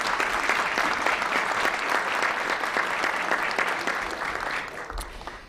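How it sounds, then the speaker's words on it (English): Sustained applause from a luncheon audience, dense steady clapping throughout that thins slightly toward the end. "please give them a warm round of applause"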